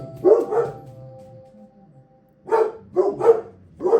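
Dogs barking indoors, two quick barks then a pause and a run of several loud, close barks in an irregular rhythm, with no talking.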